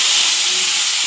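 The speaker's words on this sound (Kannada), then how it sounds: "ಫಸ್ಟ್ ಪನ್ನೀರನ್ನು ಫ್ರೈ ಮಾಡ್ಕೋಬೇಕು" Paneer frying in a hot pan gives a loud, continuous close hiss of oil, steady and unbroken for about a second.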